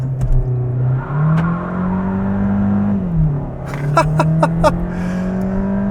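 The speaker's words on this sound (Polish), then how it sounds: "sprawdźmy, czy w ogóle ma ona launch control" Cupra Formentor 1.5 e-TSI 150 hp DSG from 2025, front-wheel drive, pulling a launch control start: a loud, close engine note climbs, dips briefly at a shift, then keeps pulling, with a few sharp ticks near the end.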